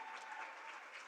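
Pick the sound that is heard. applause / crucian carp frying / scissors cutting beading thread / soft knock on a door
applause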